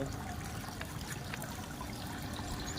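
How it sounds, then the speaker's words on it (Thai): Water trickles through a miniature artificial waterfall set among decorative plant pots, a faint, steady, even burble that continues without pause. "ตามด้วยน้ำตกจำลองนะครับ"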